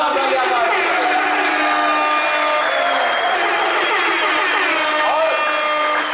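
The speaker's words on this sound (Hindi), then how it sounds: "एक बार जोरदार ताली आकाश जी।" Loud, sustained applause from an audience at a recovery birthday celebration marking 730 days sober for Akash, dense clapping throughout with faint crowd voices mixed in.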